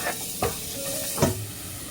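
Red and yellow sweet peppers, white onions and garlic sauté in a pan with a constant close sizzle, broken by a couple of scraping stirs, and no talking.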